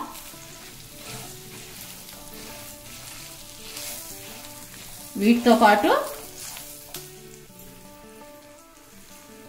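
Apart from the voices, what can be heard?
tempering spices sizzling in hot oil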